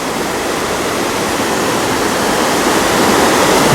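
Floodwater roars continuously over an overflowing weir during the season's first high water, a loud, dense, unbroken rushing wash close by with no pauses.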